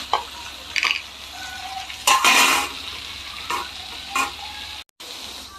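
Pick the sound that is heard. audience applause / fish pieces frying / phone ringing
fish pieces frying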